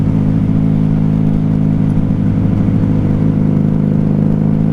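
A 1994 Honda Magna 750 VF750C motorcycle engine runs steadily while riding after a fuel shortage, a loud, close, continuous mid-pitched drone with even rumbling pulses and no voices.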